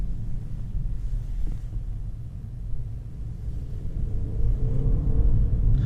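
BMW 520i F10 LCI sedan engine droning steadily while driving, a low continuous rumble with road and wind noise that swells slightly toward the end, heard from inside the cabin with no talk.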